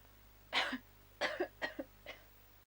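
Four raspy coughs from a video game character in an uneven sequence, the first strongest and the rest slightly softer, over a steady low hum.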